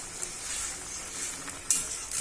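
Boal fish fries in plenty of oil, a steady bright sizzle and crackle with a few sharper spits, close and fairly even throughout.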